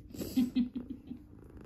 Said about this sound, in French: Ah ça ronronne de fou hein.